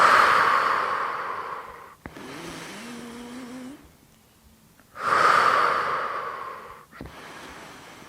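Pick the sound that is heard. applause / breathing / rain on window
breathing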